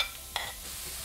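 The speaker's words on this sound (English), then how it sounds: "When the oil is nice and hot, add the finely diced onion." Finely diced onion dropped into hot oil in a large pan, a brief clatter and spatula scrape followed by a soft, steady sizzle, fairly quiet.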